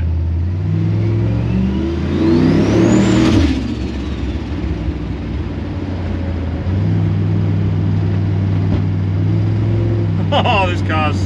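A turbocharged LS-swapped Holden Kingswood engine revs hard and climbs in pitch with a rising turbo whine, drops off, then settles into a loud, steady drone inside the car, with a brief voice at the end.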